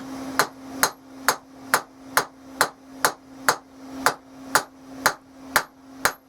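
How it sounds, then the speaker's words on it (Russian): A forging hammer strikes a hot knife blade in a steady rhythm, about fourteen sharp ringing blows evenly spaced, loud and close, each with a short metallic ring. "И ребром молота намечаем здесь с одной стороны"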